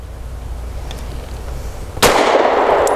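A single sharp pistol shot from a BUL Armory Axe C firing Federal Punch 124 grain hollow point rounds, a loud sudden crack about two seconds in, following low steady rumble.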